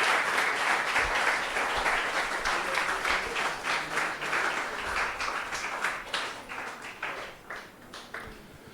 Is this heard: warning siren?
no